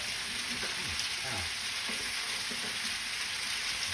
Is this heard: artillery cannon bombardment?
no